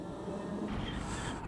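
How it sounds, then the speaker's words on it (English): A train rumbles past nearby on a coastal rail line approaching Malahide, a steady broadband roar of wheels and carriages that stays loud and continuous throughout without any talk. "Fucking trains, I think they own the road."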